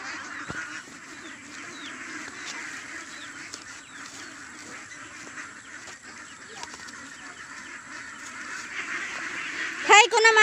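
Ducks being fed, with honking, quacking calls over a steady outdoor background, brief louder bird calls near the end and some voices mixed in.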